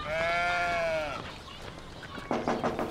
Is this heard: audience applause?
no